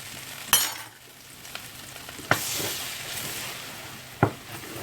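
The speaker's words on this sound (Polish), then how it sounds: "Mieszamy." Flour being stirred into a sizzling soup base for sauerkraut cabbage soup with mushrooms, a steady frying hiss with three sharp clinks of the spoon against the pot, with no one talking.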